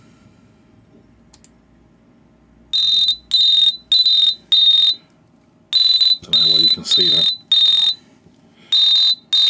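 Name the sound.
phone security app alarm sounding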